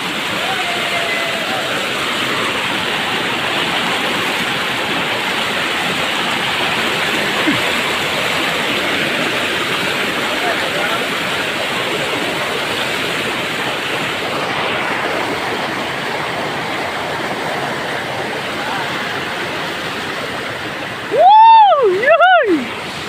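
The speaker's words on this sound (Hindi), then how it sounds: "कहाँ पे है ऐसा वाटरफॉल देख देववाड़ी पे है ऐसा वाटरफॉल" The Mangeli Deulwadi waterfall in the Konkan region roars steadily as a loud, continuous broadband rush of falling water, close and unbroken for the whole stretch, with two brief rising-and-falling whistled tones rising above it near the end.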